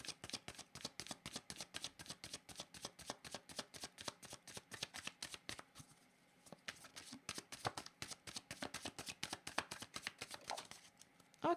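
Tarot cards shuffled close by in fast, regular riffling flicks that run almost continuously, with a short pause midway before the rhythm picks up again.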